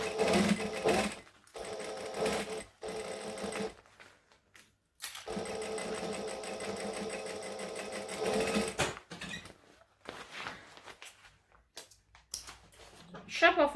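A sewing machine stitches flattened fabric in several loud, fast-running bursts separated by brief pauses, with a person talking between runs.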